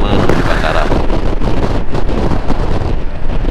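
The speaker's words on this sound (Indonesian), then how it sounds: "sedikit angin kencang ya, karena memang lagi musim angin nih." Strong wind buffets the microphone on a bypass road near the Mandalika circuit in Lombok during the windy season, a loud, steady, rumbling roar that lasts the whole time.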